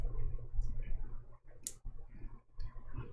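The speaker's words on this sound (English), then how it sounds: "I'm going to go ahead and start just trimming these little threads." Small scissors snip loose threads on a tiny 7-inch ladybug appliqué quilt block, giving two or three quick, crisp clicks close by over a low steady hum.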